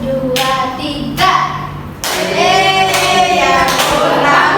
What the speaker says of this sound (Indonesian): Tapi tepuk tangan ya sambil rame-rame dan kompak